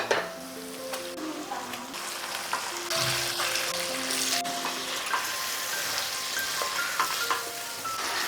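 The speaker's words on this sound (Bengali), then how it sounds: "প্রথমে এইভাবে চিকেনটাকে একটু ভেজে নেব।" Marinated chicken frying in a pan over a low flame, an even sizzle with light stirring and the occasional clink of a utensil against the pan, fairly close.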